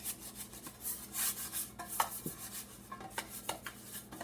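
A hand rubbing butter around the inside of a non-stick pan, quiet close-up scraping and smearing strokes in an uneven rhythm, with small clicks and knocks of the pan.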